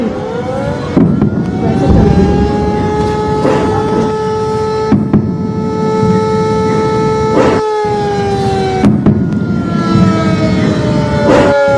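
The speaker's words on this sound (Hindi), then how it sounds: "अखनूर में भी सायरन की आवाजें आ रही हैं" Several civil defense air raid sirens in Jammu wail, rising and falling over one another during a drone attack, loud and sustained, overlapping from different distances with brief gaps and a few sharp bangs.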